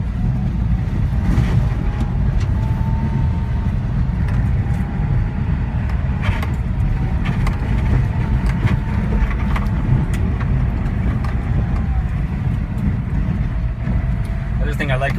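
A Daihatsu Hijet mini-truck with a five-speed manual drives along in first gear, its engine a steady close rumble with road noise, while someone talks over it throughout.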